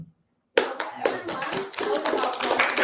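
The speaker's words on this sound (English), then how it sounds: "Another clap?" Meetup audience at a JavaScript conference breaking into clapping after a half-second of silence, dense overlapping handclaps filling the room, steady and fairly close.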